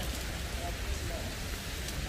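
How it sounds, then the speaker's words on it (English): Dense, steady hiss of rainfall near Wanaka, New Zealand, fills the short stretch, a continuous wash with faint patter close by. "even though it's raining"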